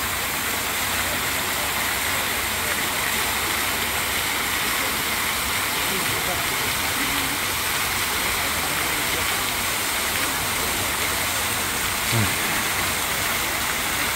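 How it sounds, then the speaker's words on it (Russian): The Roman fountains in Peterhof's Lower Park splash and rush in a dense, steady wash of falling water. Faint crowd murmur from the busy park sits underneath. "Римские фонтаны"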